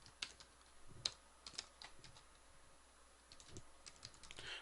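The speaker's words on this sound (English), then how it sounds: "make sure I don't type anything wrong" Soft clicking of computer keyboard keys in irregular bursts, faint and close, with short pauses between keystrokes.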